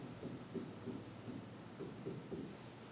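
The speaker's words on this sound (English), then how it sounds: "Let me write it down." Pen or marker writing out math steps, a series of soft scratchy strokes in irregular rhythm, close and quiet with no talk.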